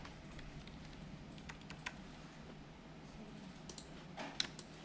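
Computer mouse clicks in drawing software while making a fashion design flat sketch: faint, scattered sharp clicks over a low steady hum, a small cluster near the end, no talking.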